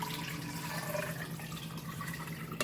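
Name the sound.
water being poured in for pork sorpotel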